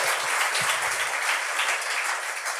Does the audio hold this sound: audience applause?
yes